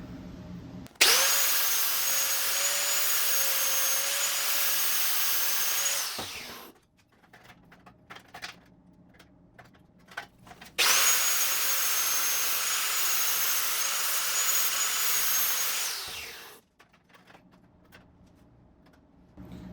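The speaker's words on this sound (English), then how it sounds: "You can actually grind the patch, it's gonna be easier." An angle grinder works a welded steel patch on the valance of a 1966 Triumph GT6 in two long, loud, steady high-pitched runs, each ending as the disc spins down, with quiet shop clatter in between.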